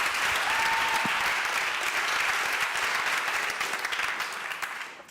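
Audience at an innovation event's opening ceremony applauding as presenters walk on stage, steady dense clapping that slowly fades, heard from within the hall.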